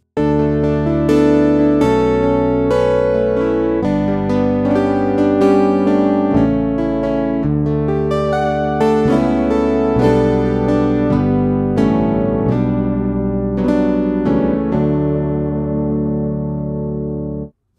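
A virtual Harpejji instrument, clean signal with no effects, plays a sustained melodic passage with ringing plucked-string tones and overlapping chords, loud and continuous, no voices.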